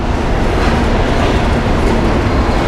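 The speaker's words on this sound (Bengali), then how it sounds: "একদম কমলাপুর রেল স্টেশনে দাঁড়িয়ে গেল কমলাপুর রেল স্টেশনে" Loud, dense rumble of a train from Rajshahi arriving at Kamalapur railway station in Dhaka, wheels clattering steadily on the rails with a heavy, continuous roar.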